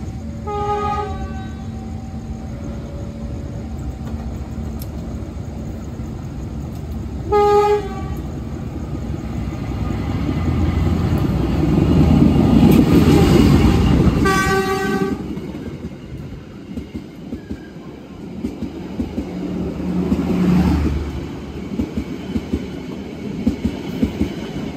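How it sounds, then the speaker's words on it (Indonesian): The regular Kutojaya Selatan passenger train runs straight through Ciawi station without stopping. Its horn sounds in repeated blasts while the rumble of wheels and cars on the rails builds to a loud close pass, then fades. "Kereta api Kuto Jaya Selatan reguler udah melintas langsung di stasiun Ciawi."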